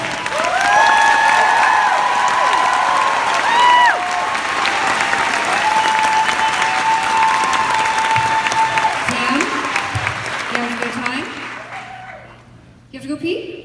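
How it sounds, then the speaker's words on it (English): A concert crowd in Detroit claps and cheers loudly for a guest at a show, with voices over the applause. The clapping thins out and fades near the end. "give a massive round of applause for our friend,"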